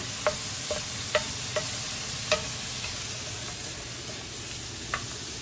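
Pan on the stove sizzling after being deglazed with orange juice, a steady close hiss with a few sharp spatters and stirring clicks, no talking.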